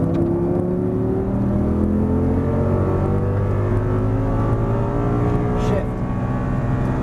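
An Audi R8 pulls hard on throttle out of a track corner, its engine note climbing steadily in pitch across several seconds, loud and continuous with a pass-by swell near the end.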